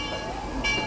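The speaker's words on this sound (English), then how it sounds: "Train is pulling in yet again." A ride train pulls into the station at New Orleans Square, a steady low rumble and mechanical hum with a brief louder swell near the end, with people chatting over it.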